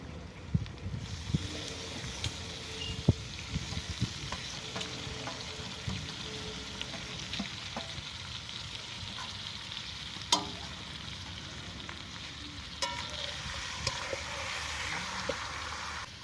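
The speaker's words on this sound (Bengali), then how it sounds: "মশলা ভাজা হয়ে গেছে, তেল ছেড়ে দিয়েছে। এর মধ্যে ম্যারিনেট করা খাসির মাথাটা দিয়ে দেবো।" Marinated goat head frying in spiced oil for a curry makes a long, even sizzle punctuated by sharp spatula clicks and scrapes against the pot.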